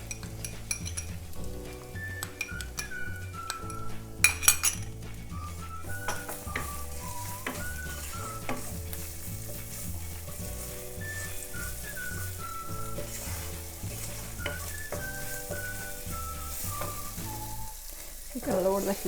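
Garlic and ginger sizzling in a pan for chilli paneer, a steady soft frying crackle with spoon clinks and stirring against the pan, under looping background music.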